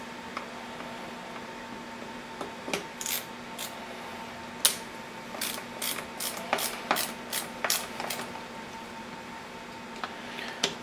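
A screwdriver turned by hand tightens small screws, giving faint, intermittent scratchy twists and squeaks in short bursts over a quiet, humming background.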